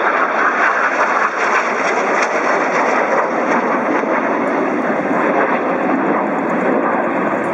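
Display aircraft roaring through a corkscrew manoeuvre at the Farnborough air show 2010, a loud sustained engine rush with a steady whine, close and continuous from start to finish.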